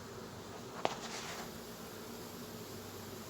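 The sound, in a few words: honey bee swarm buzzing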